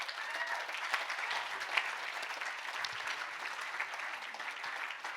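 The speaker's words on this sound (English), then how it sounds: "how about a round of applause for the Ritz Family Foundation?" A gala fundraising audience applauds donors with steady, dense clapping that holds evenly for the whole stretch, heard at a soft, slightly distant level with no talk over it.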